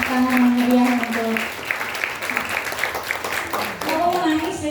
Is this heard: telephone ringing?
no